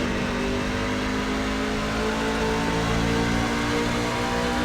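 A NASCAR truck engine in the iRacing video game drones loud and continuous as it accelerates, a steady close-up racing roar with no speech.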